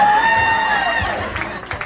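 A comedy club crowd at a stand-up night cheers and whoops, with a loud high whistle-like shout at the start. A dense roar of clapping and voices follows and fades slightly.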